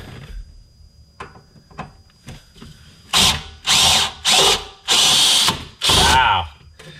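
A power drill spins a screw extractor into a stuck screw, starting with scattered clicks and taps, then five loud whirring bursts of about a second each, close by.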